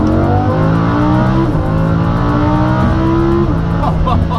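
A Lamborghini Huracan's V10 engine revs hard and loud up close, the pitch climbing steadily through two upshifts with brief dips, a continuous high-rpm roar with no talking.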